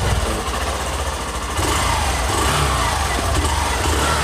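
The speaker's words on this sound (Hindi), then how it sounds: "तो अभी बाइक स्टार्ट है तो एक बार आप लोग साउंड भी सुन लीजिए।" A running Hero Glamour Xtech motorcycle engine, 2021 model, sits close and loud, giving a steady idling chug with a broad, noisy mechanical roar throughout.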